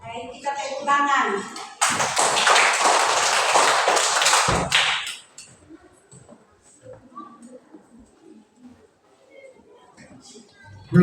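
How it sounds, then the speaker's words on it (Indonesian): A roomful of pupils in a classroom applauds together, a dense, loud burst of clapping lasting about three seconds before cutting off, followed by quieter talking and room noise. "Baik, kita tepuk tangan."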